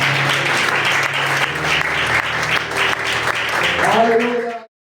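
Church congregation applauding during worship, dense sustained clapping from many people filling the room, with voices mixed in and a sung or spoken tone rising near the end before it cuts off.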